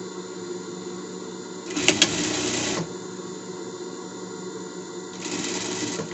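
A sewing machine stitches a hem on a costume in two short bursts of fast whirring, close by, with a quiet pause between runs and no speech.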